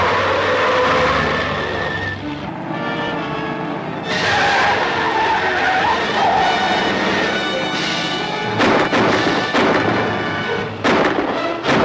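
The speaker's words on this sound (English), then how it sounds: "There's a car behind us." A car chases behind in a 1945 film, its engine roaring close and loud with tire skids and squeals, broken by sharp bursts of impact.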